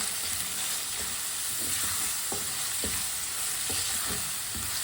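Meat cooking in a hot pan while a spoon stirs it, a constant loud sizzle broken by regular scraping strokes every half second or so, close and with no voices.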